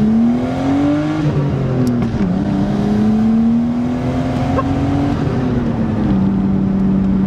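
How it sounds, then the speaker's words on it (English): An R32 Nissan Skyline turbo six-cylinder engine revs up and down steadily, a throaty turbocharged growl that rises in pitch, dips, and climbs again, loud and close with no talking. "it still sounds awesome"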